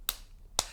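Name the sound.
hand clap for syncing the edit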